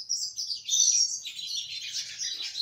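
Wild birds chirp and tweet nearby while gathering nest material in summer, a bright, almost unbroken stream of high calls with no talking.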